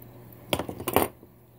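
Wire cutters snip through bent craft wire for a polymer clay rose, giving two sharp metallic clicks close by in quick succession, with a brief ringing tail.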